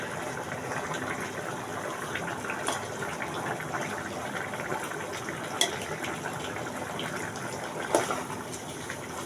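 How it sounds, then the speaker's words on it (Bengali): Silver carp is poured into a bottle gourd curry, a low bubbling, sloshing wash of liquid with a couple of brief clatters, no talk. "আমি এখন মাছটাকে তরকারির ভিতরে ঢেলে দেব।"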